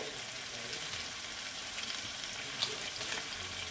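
Aar fish with fenugreek frying in a pan as a Bengali curry is stirred, with a steady close sizzle and faint scrapes and clinks all the way through.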